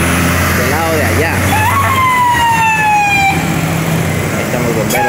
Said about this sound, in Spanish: Ahí están los bomberos, amigos. Ambulancia, los bomberos.